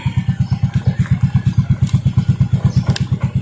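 Close by, a Yamaha Mio i125 scooter engine runs with a loud, rapid, even low thumping pulse, like a steady idle. No one talks.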